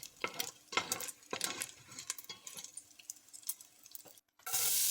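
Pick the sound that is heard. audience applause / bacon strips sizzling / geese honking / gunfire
bacon strips sizzling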